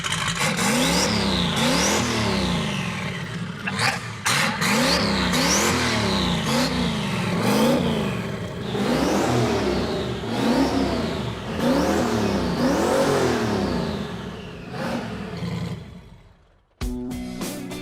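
A Datsun engine in a Rotsun project car revs repeatedly, rising and falling in loud, rhythmic waves, then cuts off abruptly near the end before idling briefly.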